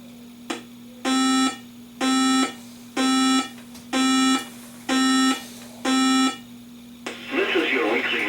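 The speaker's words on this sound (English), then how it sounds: "The preceding signal was a test of the NOAA weather radio warning alarm device." NOAA weather radio warning alarm test tone on a Cleveland AM station broadcast, six evenly spaced loud buzzing beeps about one second apart over a low steady carrier hum, followed by the start of a voice.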